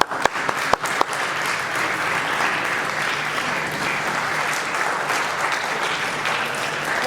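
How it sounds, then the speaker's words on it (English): An audience at Bahria University bursts into applause for a guest speaker, a few sharp early claps swelling into steady, sustained clapping that fills the hall without any talking. "So please give her a big round of applause"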